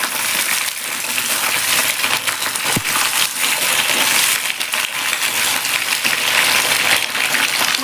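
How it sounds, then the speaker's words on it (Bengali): Green beans frying in a little oil give a steady, dense crackle and spatter that runs unbroken for the whole stretch, close and fairly loud, with one brief sharp knock partway through. "দিলাম শিম। একটু তেলের মধ্যে ভেজে নেব।"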